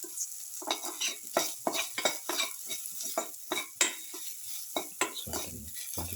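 Beetroot mixture with salt and chili powder being stirred in a pot, a rhythmic series of scraping, clinking spoon strokes against the vessel, close and moderately loud, with no talking.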